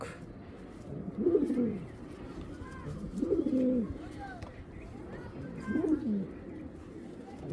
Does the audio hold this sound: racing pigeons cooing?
yes